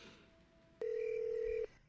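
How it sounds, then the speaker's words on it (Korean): Telephone ringing late at night: a single steady electronic ring tone, clear and close, lasting under a second amid a quiet room. "늦은 밤 갑자기 걸려온 전화."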